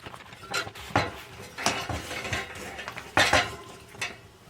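Metal tire spoons prying a bicycle tire off its rim, a series of sharp clinks and scraping knocks at irregular intervals, close and moderately loud, with no voices.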